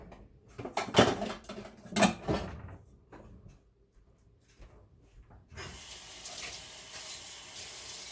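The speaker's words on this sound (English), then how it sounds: "add a little bit of water." Water poured into a cooking pot of beef or pork set to cook on low, a short rush of liquid after some handling clatter, then a steady bright splash that continues to the end.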